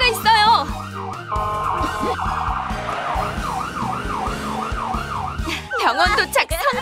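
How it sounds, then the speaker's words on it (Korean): A cartoon ambulance siren in a children's animation wails in a steady rising-and-falling cycle, loud and continuous over bright background music. "사이렌을 울려야겠어."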